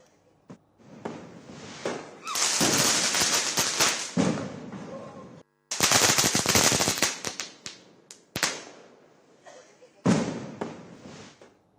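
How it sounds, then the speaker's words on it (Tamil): Firecrackers bursting in the streets of Kolkata during Diwali celebrations, a run of loud crackling bursts and sharp bangs coming in several dense volleys with brief gaps between them, close and intense. "குழந்தைகள் முதல் பெரியவர்கள் வரை புத்தாடை அணிந்தும் பட்டாசு வெடித்தும் தீபாவளி பண்டிகையை கொண்டாடினர்"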